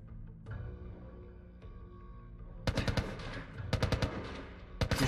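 Bursts of automatic gunfire in The Last of Us Remastered arrive as loud, rapid clusters of shots in two volleys and a short final burst, after a quieter stretch of low ambient tones.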